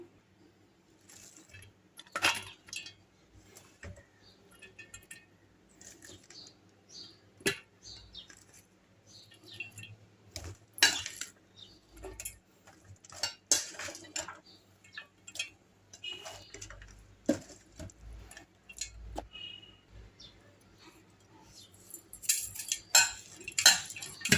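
Chopped carrot, onion, green chillies, coriander and tomato are tossed together in a basin, giving scattered light clicks and soft clatters at an uneven, close pace.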